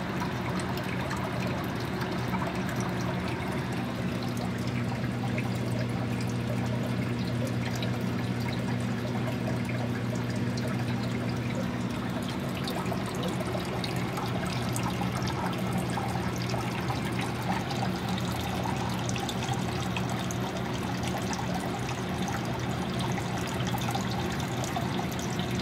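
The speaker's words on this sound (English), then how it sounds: "just filled it with water from the other tank" Water pours steadily into an indoor aquaponics koi tank, refilled from another tank, giving a continuous close trickling and splashing wash with a low hum beneath throughout, no talk.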